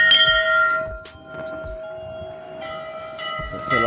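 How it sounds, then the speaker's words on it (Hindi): Large temple bell at a hillside Maa Bhagwati shrine in Uttarakhand, struck a few times so its bright ringing tone hangs and sustains between strikes, close and loud. "और ये घंटी हम भी मार"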